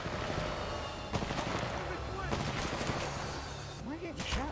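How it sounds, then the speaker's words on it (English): Rapid gunfire in the Titanfall 2 video game, dense bursts of shots layered with explosions and game effects under a busy mix, with talk in between. "Am I getting shot from behind?"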